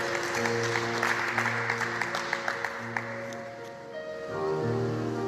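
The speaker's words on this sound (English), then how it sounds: "Another round of applause for yourselves" Audience applause at the Woman Power Banquet 2021 talk, a moderate ongoing clatter of clapping over sustained background music with steady tones, fading slightly before the music swells at the end.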